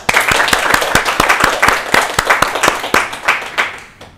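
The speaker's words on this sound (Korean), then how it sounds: "우리 하나님께 영광의 박수 올려드리면 좋겠습니다." A church congregation applauding together, a dense burst of close hand claps with some steady rhythmic beats that keeps up for a few seconds, then thins and fades out.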